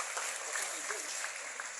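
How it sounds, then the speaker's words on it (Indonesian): An audience claps at a youth forum gathering, a soft, steady patter of many hands heard faintly from a distance, with no voices over it. "Tepuk tangan buat Kak Billy"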